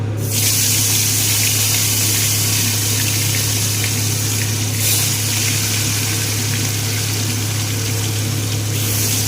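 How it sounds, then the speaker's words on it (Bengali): Fish frying one piece at a time in hot oil, lightly coated with a little turmeric, giving a loud, steady hiss with a constant low hum beneath and no voices. "তেল গরম হয়ে গিয়েছে, এবার এক এক করে মাছগুলো সব ভেজে তুলে দেব"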